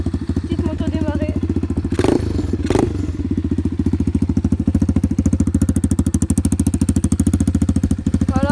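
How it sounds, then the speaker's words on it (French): A small motorcycle engine runs close by with a fast, steady throbbing idle, broken by a couple of dull thuds early on. "petite moto démarrée."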